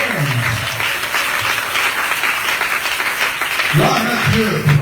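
A church congregation applauds and cheers during a French-language sermon, loud continuous clapping with voices calling out acclamations throughout and a speaker's voice rising near the end.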